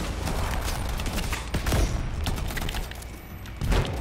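Gunfire in the video game Anthem: dense, continuous rattling bursts of shots with heavier booms at moments, steady and loud across the whole stretch, with no voices over it.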